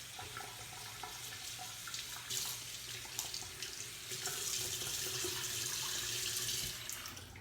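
Water streams steadily from a tap onto a rag held under it, a continuous close splashing rush that swells a little louder toward the end, with no talk.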